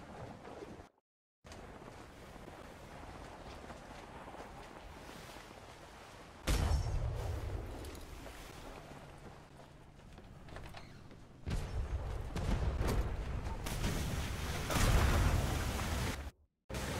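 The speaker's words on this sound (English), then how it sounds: "I'm just going to start the battle off by hitting him with the front heavy cannon." Heavy booming blasts of front heavy cannon fire from an armoured sloop in the game ATLAS arrive in loud bursts, with a rumbling low-end roar between shots and brief dropouts of silence.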